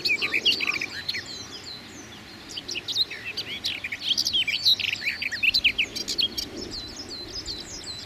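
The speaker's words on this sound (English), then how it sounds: "This flycatcher singing was lovely" A flycatcher sings in a churchyard at dawn, bright chirps and short whistled phrases repeating through the clip, fairly close, over a soft chorus of other birds and faint ambient hum.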